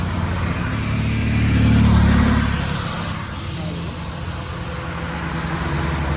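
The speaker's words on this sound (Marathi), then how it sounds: "ट्रॅफिक बघा किती आहे." Road traffic on a ghat road during a temple fair, with a steady, fairly loud wash of cars, buses and motorcycles passing close by that swells to a peak and then settles back.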